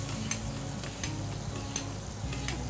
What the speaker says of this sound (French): On va arroser les Saint-Jacques pour les nourrir.